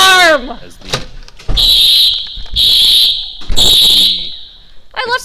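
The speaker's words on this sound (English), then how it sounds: "Who set off the alarm?" Fire alarm sounding inside a building: three loud, sustained piercing tones in bursts, each with a rough buzzing edge, separated by short gaps, with brief voices and noise around them.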